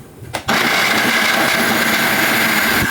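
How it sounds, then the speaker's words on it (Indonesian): An electric blender grinds garlic, shallots and coriander into a spice paste, switching on abruptly after a brief click and then running as a loud, steady whirring drone. "lalu kita blender."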